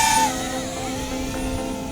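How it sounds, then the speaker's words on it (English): Motors of a DJI Avata 2 FPV drone spinning up for a manual-mode freestyle flight, a steady multi-tone whine with a brief higher note at the start, close and fairly loud, continuing without talk. "Engine starts."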